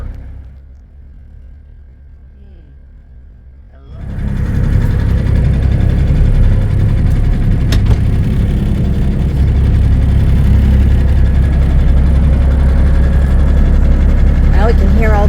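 A Peterbilt 359 truck with a Cummins engine idles, starting quiet and then rising sharply into a loud, steady, close low rumble after about four seconds, with faint voices in the background.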